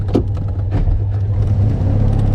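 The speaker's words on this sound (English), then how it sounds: "This is what 2CV is all about, isn't it? The sounds, the joy," A Citroën 2CV engine drones steadily and close while the car drives along with the top down in sunny weather, a constant low hum with a slight rise in revs near the start.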